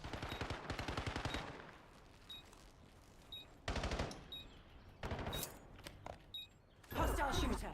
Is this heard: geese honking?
no